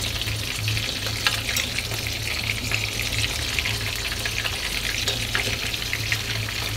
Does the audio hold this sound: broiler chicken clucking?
no